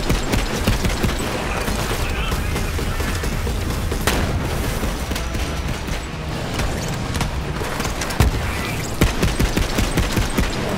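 Gunfire rattles through Borderlands 3 combat in bursts of automatic fire, booms and sharp sniper cracks layered over game effects, and a commentator talks at times.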